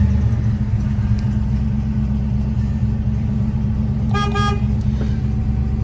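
A restored 1968 Ford Mustang California Special with a 289 V8 idles loudly and close in a steady, deep rumble. A short horn toot sounds partway through.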